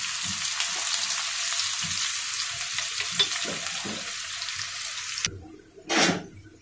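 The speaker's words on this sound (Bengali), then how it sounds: "এখানে আমি ভালো করে পেঁয়াজ বেরেস্তা করে নেব।" Sliced onions fry steadily in hot oil until crisp for hilsa pulao, a continuous close sizzle with soft stirring knocks, then the frying cuts off and a short burst of hiss follows near the end.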